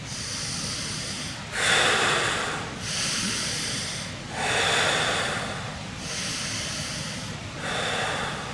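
A slow breathing exercise of deep breaths, with long airy inhales and exhales swelling and fading in a steady rhythm, close and fairly loud, about five full cycles with no talking.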